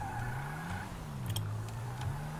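A car in GTA 5 pulls away, its engine note rising and shifting in pitch as it accelerates, steady and moderately close over a faint background hum, with no voices.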